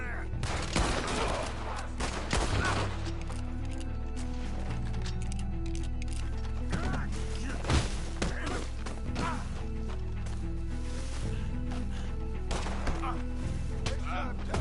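Dense bursts of gunfire from Red Dead Redemption 2, with repeated loud cracks and volleys over several seconds, mixed with game music and sound effects, and voices talking at times.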